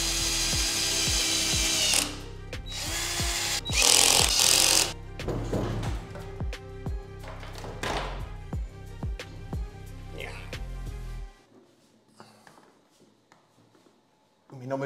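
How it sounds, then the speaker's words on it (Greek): A power drill whirs in repeated short bursts while driving screws during a TV mount installation, close and loud with ratcheting clicks, someone talking between bursts before it falls quiet. "Λοιπόν, κάτσα βάλω και την άλλη βίδα."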